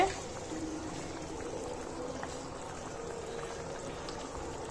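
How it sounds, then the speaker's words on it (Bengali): Thin beef broth bubbling steadily in a pot on the stove, a soft continuous seething and gurgle at moderate level with no talk over it. "গোস্ততে ঝোল দেওয়ার পর ঝোলটা বলক চলে আসছে।"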